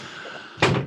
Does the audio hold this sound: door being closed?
yes